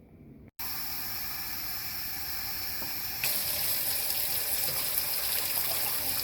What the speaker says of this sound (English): it's a lot easier to just use a regular mug and just fill it up and then pour each one in